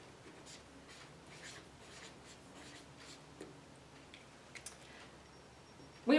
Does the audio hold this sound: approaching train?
no